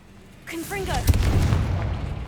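Confringo blasting spell explosion in Hogwarts Legacy, a heavy booming blast that swells after a short spoken call and rolls on as a low, sustained rumble.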